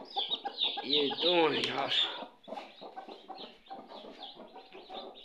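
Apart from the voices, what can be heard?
Aseel chicks chirping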